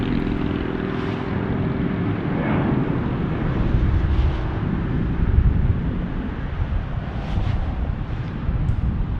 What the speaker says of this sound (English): Coming in, we got Delta 2260 and A320